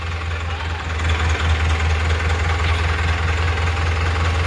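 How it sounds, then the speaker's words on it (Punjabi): Large tractor hitched to a wheat-sowing machine idling nearby, a steady low throbbing engine drone with mechanical vibration, continuous and fairly loud with no voices. "ਦੇਖੋ ਕਿੰਨੀ ਤੱਕੜ ਟਰੈਕਟਰ ਵੀ ਕਿੱਡਾ ਵੱਡਾ ਵਾ"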